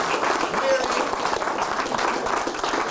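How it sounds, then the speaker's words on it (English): A big round of applause from an audience at an awards event, a steady, fairly loud rush of many hands clapping that holds evenly throughout. "give a big round of applause"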